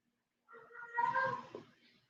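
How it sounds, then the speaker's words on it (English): Cats caterwaul in a single drawn-out, wavering yowl that swells and fades over about a second and a half, faint and a little distant, with no talk. "Y'all hear the cats? They're going crazy."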